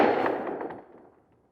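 A single rifle shot from Atomic Ammo 77 grain match ammunition cracks loudly up close, then rings out in a decaying echo that fades over about a second.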